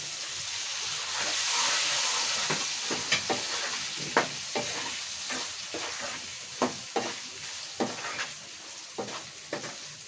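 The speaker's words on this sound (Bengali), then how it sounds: "এর ভিতরেই আমি আলুগুলো ঢেলে দেব।" Potatoes poured into hot oil for a cucumber curry with lentil fritters hiss in a loud, steady sizzle that swells early, then keep crackling with sharp pops and spatters throughout, with no talking.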